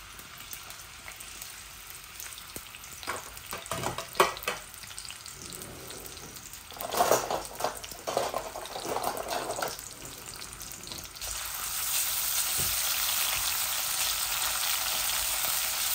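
Garlic dropped into oil that is not yet fully hot, with quiet background noise, a few bursts of clattering and crackle, then a steady louder sizzle building near the end.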